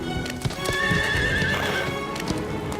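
A horse whinnies in a long, shrill neigh while hooves clop unevenly nearby, close and fairly loud.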